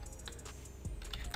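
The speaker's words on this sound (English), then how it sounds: "just type in" Keys clack on a computer keyboard in a quick, soft run of close taps, fairly faint, with no voice over it.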